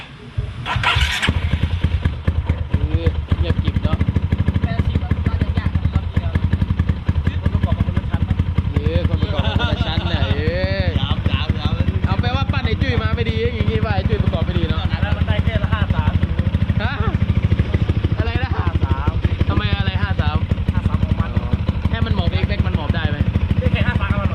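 A rebuilt Yamaha XMAX 300 scooter with a big-bore engine cranks, starts and settles into a loud, steady, close idle with some mechanical clatter, while voices talk over the running engine.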